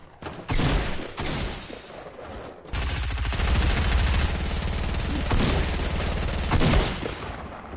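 Gunfire in Fortnite: a few sharp early shots, then a long, dense stretch of rapid automatic fire with rattling bursts, loud and close, continuing with only brief swells in intensity.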